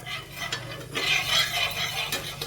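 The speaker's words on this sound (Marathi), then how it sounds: "नवीन तव्याला खडरम खडरम करत आहोत" A wooden spatula scraping across a new griddle pan, several short rough scrapes in quick succession over a soft background hiss, close and moderately loud.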